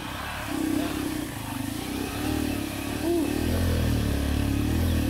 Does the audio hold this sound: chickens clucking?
no